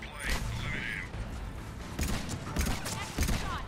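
Rapid gunfire bursts from the Mass Effect 3 multiplayer shooter, fighting Cerberus troops on Gold difficulty, crackling in close repeated volleys over a steady game soundscape.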